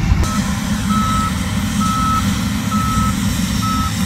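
Regular reversing beeps from a John Deere S780 combine with duals unloading in a soybean field, evenly spaced tones over a loud, steady engine rumble nearby.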